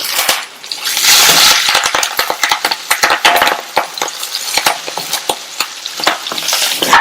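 Curry leaves and cut green chillies sautéing in a hot pan of oil with paste, a loud continuous sizzle broken by frequent sharp scrapes and clicks of a spoon stirring, close up.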